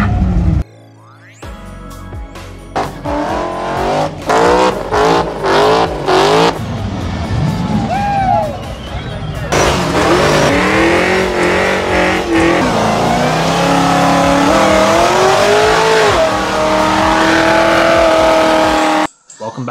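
Cars at the Langley Good Times Cruise In 2022 do burnouts on a closed street, with loud, repeated engine revs rising and falling, sustained tire squeal and roaring acceleration close by for nearly the whole stretch.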